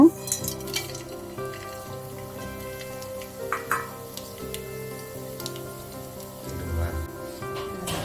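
Cinnamon, cardamom, cloves and cumin frying in hot oil for biryani, a continuous crackling sizzle with occasional sharper pops, partly under a voice talking.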